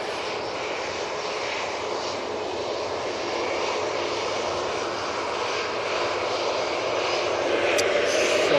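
A TUI airliner departs, its engine roar broad and steady, building slightly louder toward the end as it climbs away at a moderate distance.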